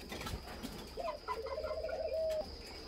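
A spotted dove gives a drawn-out cooing call, clear and fairly close, set against quiet background with faint chirping.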